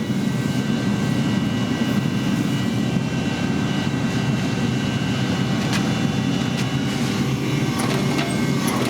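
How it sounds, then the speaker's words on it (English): A propane forge burner blows hot on a medieval Damascus sword billet, giving a loud, steady, close roar that holds unbroken for the whole stretch with no talking. "the burner's blowing the propane right out on the billet"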